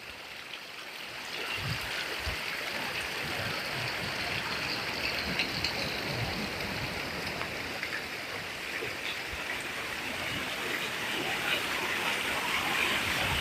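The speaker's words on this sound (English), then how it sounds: "I've got raging ocean on one side and all these waterfalls on the other side" Fresh water pours down a waterfall beside a wild Pacific coast road in Japan, a steady broadband rush with some low splashing, continuous and fairly close throughout.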